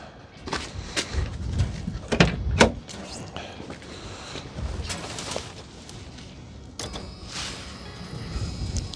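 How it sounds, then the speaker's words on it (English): A 1985 Merkur XR4Ti door is opened, a few close mechanical clicks and latch clunks followed by a creaking swing and a faint warning chime tone, with quiet background noise. "Let's open the door."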